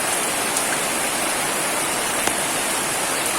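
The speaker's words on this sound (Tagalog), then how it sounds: "Ang sama, may bumagsak, lumalakas sa ating ulan." Heavy rain pours down steadily as a dense, loud, even hiss with no breaks, outdoors during a downpour.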